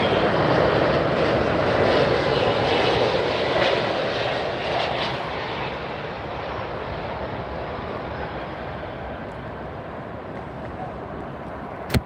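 Jet engines of large airliners, such as an A380 and 747, arriving close up at Miami Airport: a loud, broad roar that holds steady, then eases slightly as the aircraft passes.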